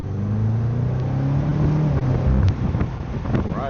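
An F91 BMW M8 Competition convertible with 617 hp accelerates hard in M1 mode, its engine note climbing steadily in pitch under heavy wind buffeting from the open top.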